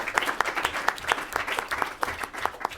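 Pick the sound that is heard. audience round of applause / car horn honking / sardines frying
audience round of applause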